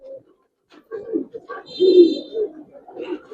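Chila pigeons cooing in short, soft, low phrases close by, the coos broken up by brief pauses and other faint nearby sounds.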